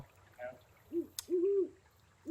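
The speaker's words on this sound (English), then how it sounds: "where's the owl?" Owl hooting in the video game Colossal Cave 3D: two soft, low hoots in quick succession, the second longer, over a quiet ambient background, with a faint click in between.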